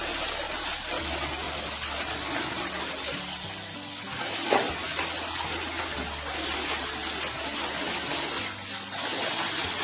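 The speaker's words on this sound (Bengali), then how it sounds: "পালং শাকটা কিন্তু খুব ভালোভাবে কিন্তু জলে পরিষ্কার করে ধুয়ে নিতে হবে।" Spinach washed in water, a continuous splashing, rustling wash with faint sloshes and occasional knocks of a bowl, close and moderately loud, no speech.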